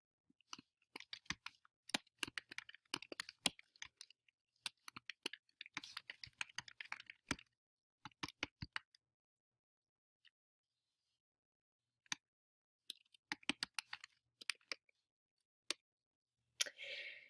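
Bursts of quick computer keyboard typing and clicks while filling in an online form, coming in irregular runs with short pauses, close and fairly clear, no talking.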